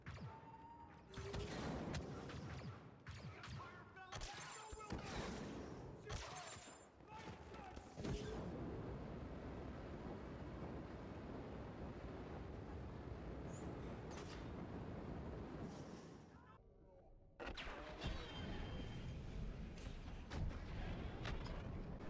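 Flametrooper flamethrower firing in Star Wars Battlefront 2 amid heavy battle noise: a sustained roaring whoosh of flame runs for several seconds between bursts of blasts and explosions, loud and dense throughout.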